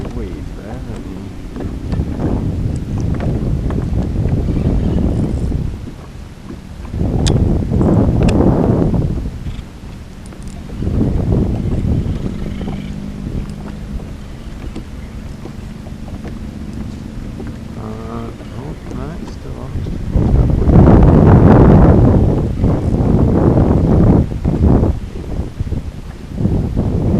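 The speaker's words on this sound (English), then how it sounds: "the wind continues to be a pain" Gusty wind buffets the microphone on a lake during a kayak bass fishing session, roaring in loud surges that rise and fall between calmer stretches, with brief talk in places.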